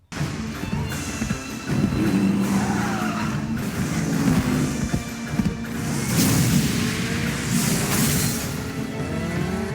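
Tires skid and squeal through a motorcycle chase scene in a show, with engine roar, revving and impact noises layered over a dense, loud, continuous action soundtrack.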